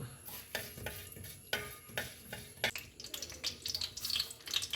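A tablespoon of fenugreek seeds sizzles in hot sesame oil, a steady close crackle with stirring and scraping of the pan, the hiss growing brighter toward the end.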